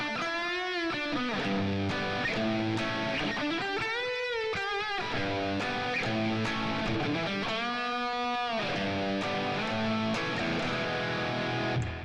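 Distorted electric guitar plays the fills from a song: bending, sliding phrases over sustained chords, loud and continuous, with no talking.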